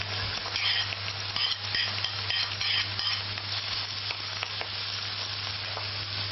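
Onion sizzles in a pan with bacon while being stirred, a steady close frying hiss with scraping stir strokes throughout and no talk.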